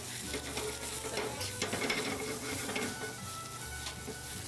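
Steady sizzling of eggplant frying in oil in a restaurant kitchen pan, a constant crackling hiss with some stirring clatter and a low hum underneath.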